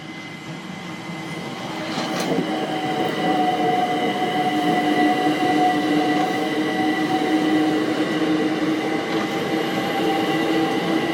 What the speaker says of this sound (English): that's an London Underground train going over